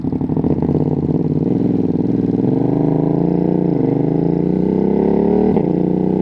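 A 120-horsepower Ducati Streetfighter V2S motorcycle on the move drones loud and close, its engine note climbing steadily with brief dips as if shifting gears.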